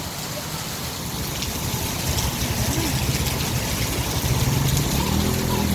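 Steady rain falling outdoors, a constant broadband patter throughout, with faint voices and movement mixed in the background.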